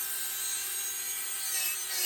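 Rotary tool run at half speed smoothing the underside of carved wood finch tail feathers, a steady high-pitched abrasive whir with rubbing texture, close and continuous throughout without talk.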